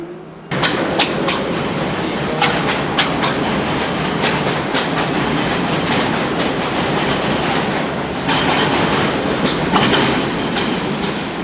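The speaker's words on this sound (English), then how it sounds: "There goes the 3 train." A New York 3 subway train passes close by with a loud, steady roar and rhythmic wheel clatter lasting several seconds, plus a thin metallic squeal near the end.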